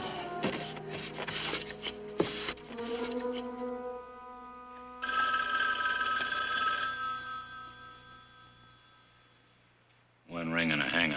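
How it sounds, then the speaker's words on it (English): Old telephone bell ringing indoors in a 1971 mystery drama, a loud close metallic trill with a couple of rings that sustain and fade, set among other room sounds, with a brief burst of activity at the end. "One ring and a hang-up is us."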